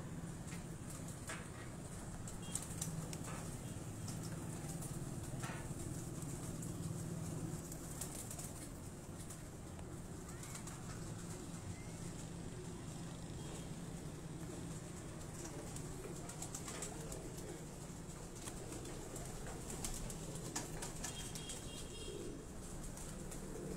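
Flying pigeons at a rooftop loft in Johar Town, Lahore, with faint flapping wings and occasional soft coos, distant and low against a constant broad outdoor wash of noise.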